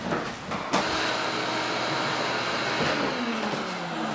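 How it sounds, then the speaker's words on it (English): A vacuum cleaner runs steadily, sucking up debris from a moldy shower pan, a loud continuous roar with a few rattling clunks as material is pulled in, close and without talk. "Steve, can you hand me the vacuum real quick? I'm gonna vacuum this up"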